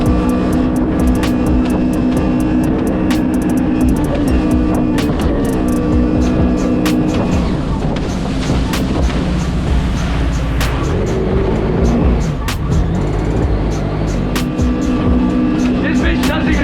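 A jet ski engine roars steadily out on open water, loud and close throughout, with wind and splashing and someone talking over it.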